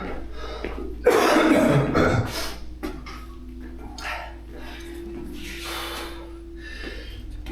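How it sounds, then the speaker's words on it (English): A harsh burst of coughing up close, followed by quieter rough coughs and breathy sputters spread over several seconds. "You can still hear some coughing going on."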